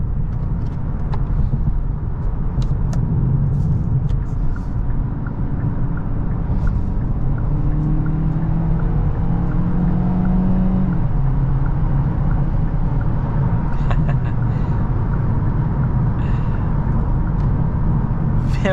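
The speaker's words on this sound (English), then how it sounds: "Engine kicked in when I put it in sport mode." A 2023 Kia Niro plug-in hybrid with its 1.6 engine running in sport mode gives a steady low cabin drone of engine and road rumble at cruising pace, even and unbroken throughout.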